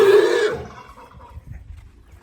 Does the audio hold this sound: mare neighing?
yes